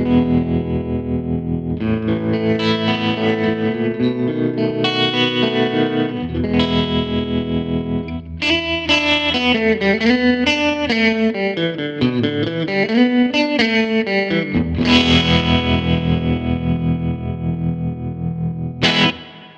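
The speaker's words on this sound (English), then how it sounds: "Sounds great if you like a tremolo." Electric guitar played through a Line 6 POD Go preset with an optical tremolo effect switched on, distorted chords and melodic runs pulsing steadily, loud and continuous with no talking.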